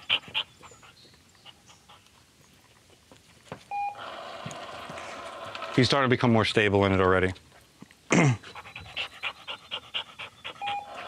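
A dog pants close by during unforced force-fetch training, quick soft breaths heard beneath a person's talk and praise, with a few short beeps.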